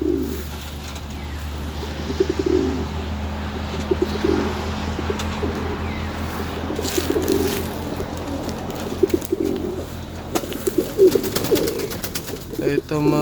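Pigeons coo inside a loft, their low, soft, repeated calls close by against a steady background hum, with occasional rustling and small knocks.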